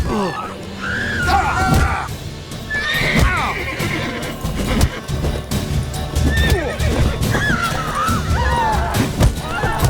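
A horse neighs and whinnies repeatedly over clopping hooves in The Witcher 3, with shouting voices and crashing game action throughout.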